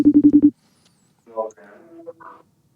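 A telephone call being dialed: a quick run of five or six close, even dial tones, followed by a brief pause and then muffled line sounds.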